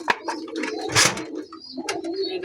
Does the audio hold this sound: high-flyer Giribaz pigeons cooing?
yes